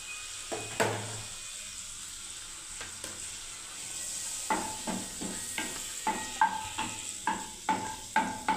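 Whole cumin seeds hit hot oil in a pan with a faint hiss, followed by a run of sharp crackling pops that grow denser and louder, alone without talk.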